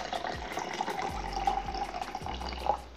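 Ice-cold water pours steadily into a bottle while making Jamaican patties, a continuous close splashing and gurgling fill with no talking.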